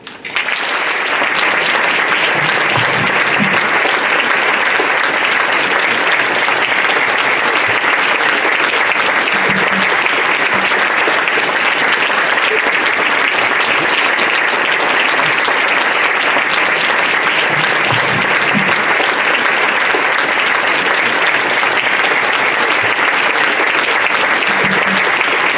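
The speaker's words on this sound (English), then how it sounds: "I hate to cut the applause" A large audience at a 2019 Martin Luther King, Jr. event applauds after a speech, steady and dense sustained clapping that fills the room for about twenty-five seconds with no break.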